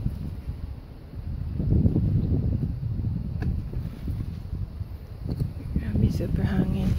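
Strong wind buffets the microphone in rumbling gusts, rising and falling, in a backyard vegetable garden while a person talks faintly underneath.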